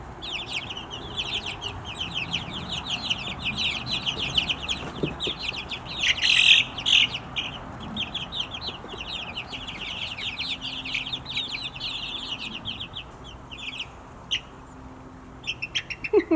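Backyard poultry, including a duck and chickens, call continuously with overlapping clucks and chirpy squawks, fairly close, over steady outdoor background noise.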